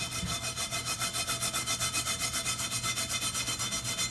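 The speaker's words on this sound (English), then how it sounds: "I'm breaking out the steel wool, or whatever you want to call this stuff." Steel wool scrubs thick rust off a cast iron skillet in quick, even back-and-forth strokes, several per second, with a steady, close, gritty rasp.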